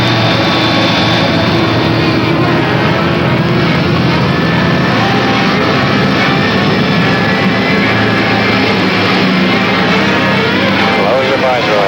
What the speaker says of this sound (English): Sierra Bravo 10, clear for immediate takeoff, runway 25, altimeter 29er 95